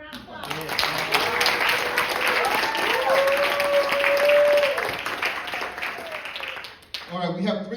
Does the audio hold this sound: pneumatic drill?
no